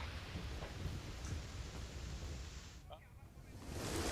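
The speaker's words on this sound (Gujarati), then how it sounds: "કારણ કે જે રીતે અમદાવાદ શહેરમાં વરસાદ થઈ રહ્યો છે." Heavy monsoon rain falls over the city of Ahmedabad as a steady, dense roar of downpour that continues throughout and swells slightly at the end.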